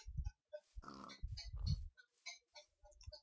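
Short grunting pig oinks from a Minecraft game, two or three clustered bursts over a few seconds, moderately close with small pops and clicks around them, no talk.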